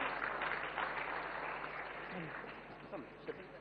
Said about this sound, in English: A huge round of applause for Maria Zina Johnson from Satyabama Univer